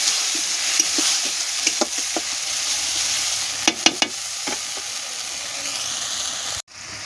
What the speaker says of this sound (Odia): ଏବେ ତ ମସଲାରେ ତ ପାଣିଟା ଦେଇଦେଲି।